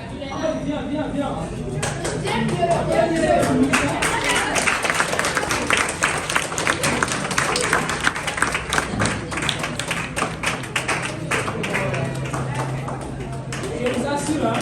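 Crowd applause and cheering at a student bureau handover ceremony, loud, dense clapping in a hall that builds and then tapers, with voices calling out and someone speaking over the noise.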